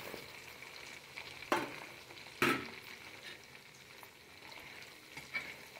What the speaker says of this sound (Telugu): ఇవి దోరగా వేయించుకోవాలి. పప్పులు ఇవి అన్నీ కూడా దోరగా వేయించుకోవాలి